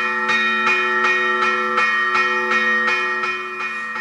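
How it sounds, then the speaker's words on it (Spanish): A church bell rings in a steady, repeated rhythm, each strike ringing out loud with long overlapping resonance. "Suena la campana de la iglesia"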